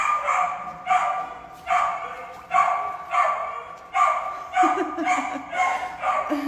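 A puppy at an animal shelter barks repeatedly in a steady rhythm, about nine sharp barks close by, each separated by a short gap.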